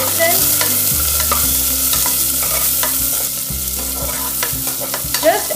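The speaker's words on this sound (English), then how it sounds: "add finely chopped 1 medium sized onion. Roast it till it turns translucent" Finely chopped onion roasting in a pan for vegetable soup, a steady close sizzle and fry with regular stirring scrapes throughout, no voices.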